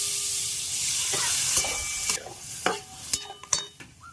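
Raw tomatoes and lentils added to a hot pan while cooking vegetarian dishes: a steady sizzling hiss, then several sharp clatters and scrapes of a utensil against the pan.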